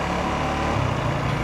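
KTM Duke 390 motorcycle engine held at a steady, loud hum as the throttle opens for a wheelie, a continuous close drone over about a second and a half with no talk.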